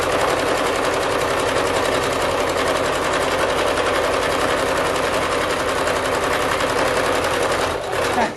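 Sewing machine back stitching fabric, a steady close whirring stitch rhythm that runs continuously and loudly throughout, then slows and stops right at the end.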